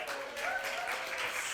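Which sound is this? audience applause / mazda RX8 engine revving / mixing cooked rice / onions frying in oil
audience applause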